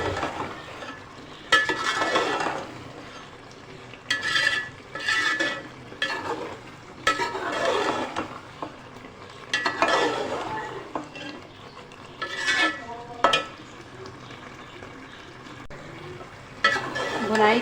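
Tripe curry with whole round red chillies being stir-fried in a pan, with uneven bursts of scraping and stirring over a steady low sizzle and clinks of utensils against metal.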